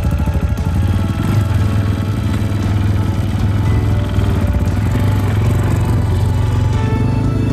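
A motorcycle engine runs steadily and loud, a constant close rumble with a slight rise as the rider sets off, and no talk over it.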